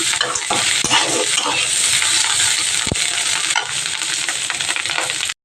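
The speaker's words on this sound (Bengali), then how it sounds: "কপির ডাটাগুলো বসিয়ে দিয়েছি কালো জিরে ফোড়ন দিয়ে" Cauliflower stems fry loudly and close up with black cumin, chopped garlic and chilli, giving a dense sizzle broken by sharp utensil knocks and stirring scrapes before the sound cuts off abruptly.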